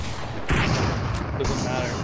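Video game gunfire: a few sharp, loud shots stand out, one near the middle and another after it, over a busy, noisy game backdrop with some voice activity.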